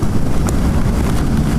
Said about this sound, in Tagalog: basta ulan malakas pa hangin